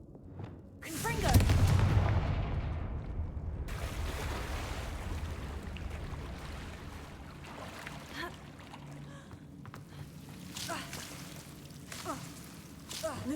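Explosive Confringo spell fired in the Hogwarts Legacy video game, a loud burst with a rumbling low boom that dies away into a hissing, crackling tail and fainter later impacts, with no speech.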